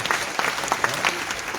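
A New Year's greetings audience claps together in a brief, dense burst of applause, close and steady throughout.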